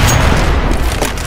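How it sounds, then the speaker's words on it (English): A grenade explodes in Counter-Strike: Global Offensive, a dense, loud boom with rumbling low end that fills the moment, mixed with scattered game noise around it. "I'm throwing a grenade. Grenade out."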